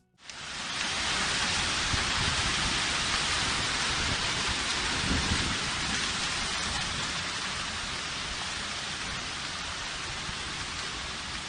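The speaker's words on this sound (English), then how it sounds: "This time the hailstorm hit quite hard, with an especially abundant phenomenon" Violent hailstorm with thunder over Turin, Italy, a loud, dense and steady roar of hail and rain pounding surfaces that continues unbroken throughout, with no voices.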